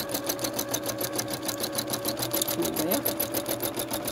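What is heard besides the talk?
sewing machine free motion stitching around a toadstool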